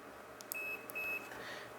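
A multimeter set to continuity mode beeps while probing a faulty Super Nintendo console for repair, giving two clear high-pitched tones in short succession, each held for a fraction of a second, over a faint background hiss.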